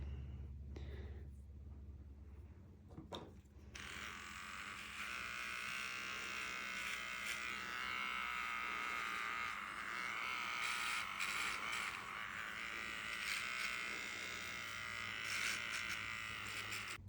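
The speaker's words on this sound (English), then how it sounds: "These clippers need to be charged, so they're very sad sounding" Electric dog grooming clippers running low on charge while trimming a Brussels Griffon switch on after a few seconds of quiet handling, then a steady, weak-sounding close buzz continues to the end.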